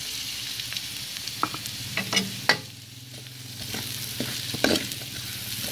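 Onions added to garlic in a pan for pork humba, with a quiet steady sizzle, a low hum and scattered sharp clinks and scrapes of a utensil stirring against the pan.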